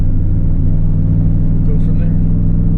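A Chevrolet Camaro Z28 engine running with a steady low rumble and a slight uneven surge while driving, loud and close throughout, with no voices over it.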